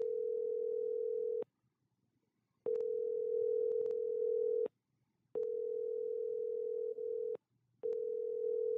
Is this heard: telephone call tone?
yes